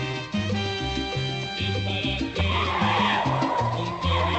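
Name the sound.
car tires squealing as the car arrives and brakes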